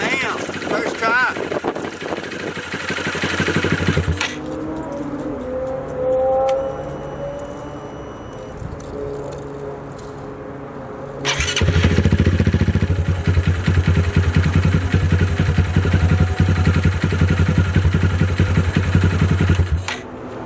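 Honda Grom motorcycle engine fitted with a Kitaco upgraded starter cranks and catches, then settles into a steady, loud idle up close, with a quieter stretch in between.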